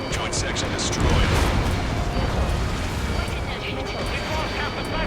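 A huge rumbling explosion tears apart a platform joint section in Ace Combat 7, a dense, sustained roar of blast and debris with voices talking over it.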